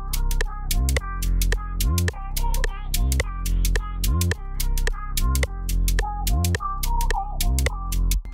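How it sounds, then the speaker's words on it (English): Crisp, rapid shaker hits run over a repeating bass and synth beat in a Zanku (Afrobeats) production, busy and steady with no one talking. "Then next, I just jumped to my shaker straight up."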